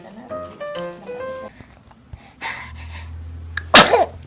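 A baby gives one sharp, close sneeze near the end, just after someone speaks softly in a sing-song voice.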